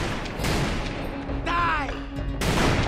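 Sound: gunshots in the video game Call of Juarez: Bound in Blood

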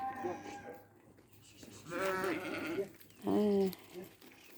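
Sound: sheep bleating on a farm

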